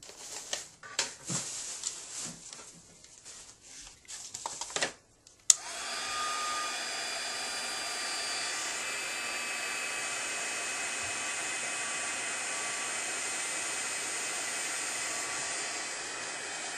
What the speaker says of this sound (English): And then I will heat set it and emboss it with clear embossing powder.